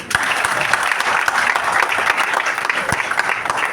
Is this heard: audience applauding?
yes